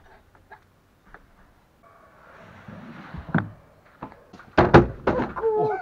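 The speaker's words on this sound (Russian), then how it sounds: "Закрываем дверь." A door being shut on a kids' go-kart and husky outing, heard as a few sharp thumps and clunks that follow faint tapping and rustling, with a voice near the end.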